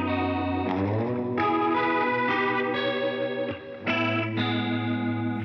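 A guitar runs through a Roland GP-16 effects processor set for a lush 1980s tone, with sustained, shimmering chorused chords and faint echo changing every second or so.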